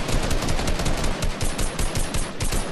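Rapid automatic gunfire from players spraying in a Fortnite DreamHack Cup match, a loud close stream of sharp shots in quick bursts that runs without pause, with no talk over it.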